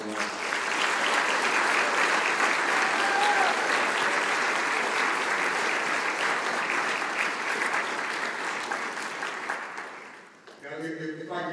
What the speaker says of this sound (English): Please give these warriors a round of applause.